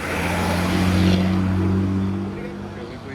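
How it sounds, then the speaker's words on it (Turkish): A large truck rumbles loudly past on a city street, a deep engine drone that swells and then eases as it moves by, with traffic noise and voices in the background. "Kamyona bak."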